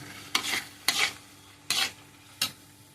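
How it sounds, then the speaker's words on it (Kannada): Mushroom gravy frying in a pan, stirred in four distinct scraping strokes over a faint sizzle, close and fairly quiet, with no talk. "ಚೆನ್ನಾಗಿ ಫ್ರೈ ಆಗಿದೆ ನೋಡಿ"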